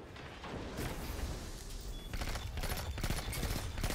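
Rapid shotgun blasts in the Destiny shooter, a dense run of loud booming shots overlapping with other weapon fire and game effects, building toward the end with no talk over it.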